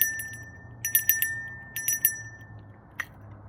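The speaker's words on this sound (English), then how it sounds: "Ring the bell to sound cleanse the area again." A small bell is rung during a protection ritual. It gives bright, clear metallic chimes in quick groups of three with a lingering ring between them, close and fairly soft, followed by one last strike.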